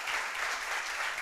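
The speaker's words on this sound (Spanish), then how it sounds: "Para ellos un aplauso que se puede escuchar a través de la radio." Church congregation applauding during a service broadcast on FM radio, a steady dense clapping that fills the whole short stretch at a fairly even level, with no talking over it.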